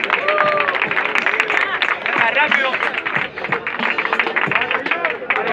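Audience applause and cheering at a freestyle rap battle qualifier in Tenerife, with a dense, continuous crowd clatter throughout, and a host talking over it.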